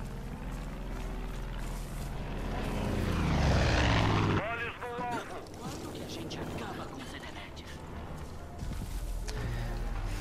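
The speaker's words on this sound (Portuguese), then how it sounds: "não pode deixar esse avião pegar a gente" A propeller plane in the shooter game Far Cry 5 swells into a loud droning pass that peaks and cuts off abruptly, followed by a busier mix of game sounds with someone talking over it.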